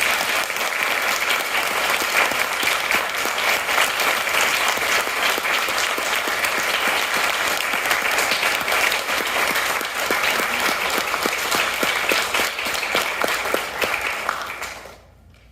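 Sustained audience applause at a school's upper school awards assembly and speech contest, steady and full for about fifteen seconds before dropping off abruptly at the end.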